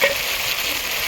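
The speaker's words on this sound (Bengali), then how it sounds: "এখন আমি ভেজে দেবো 1 মিনিট।" Food fries in oil in a pan after salt is added, a close, steady, dense sizzle that holds evenly through the whole short moment.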